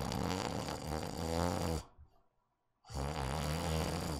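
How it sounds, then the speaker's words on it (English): A video game character snores loudly in two long nasal breaths, separated by a brief near-silent pause, with no talk. "but I hear him snoring faintly"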